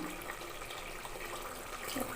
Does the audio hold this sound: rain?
no